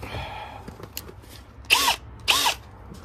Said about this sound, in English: We need a drill.